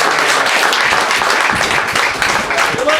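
An audience applauds for an honoree at a 2019 youth fishing tournament awards presentation, steady dense clapping filling the room for a few seconds with a faint voice or two underneath.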